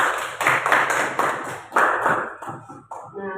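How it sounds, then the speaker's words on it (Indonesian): Classmates in a school lesson clap for their peers in a run of sharp, fairly close hand claps that thin out toward the end. "kasih tepuk tangan untuk temannya"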